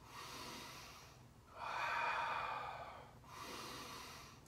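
Slow, deep expansion breaths during a balance exercise: a quiet inhale-exhale pattern with a long airy breath in the middle, close and soft, with no talking.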